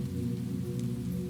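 Steady rain patters on a cozy rooftop, a dense, even wash of droplets holding constant loudness throughout with no voices over it.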